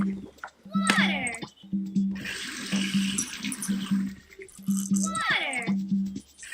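Water pouring onto plants in a Nick Jr. gardening video game, two bursts of hissing splashy watering between chirpy game sounds, with someone talking throughout.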